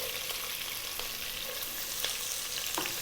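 Onion dropped into hot oil with garlic for a chicken and rice dish, giving a steady, even sizzle of frying with faint stirring scrapes and small crackles throughout, no voices.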